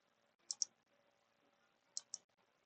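A computer mouse clicks in two quick double clicks, faint and close, with near silence between them.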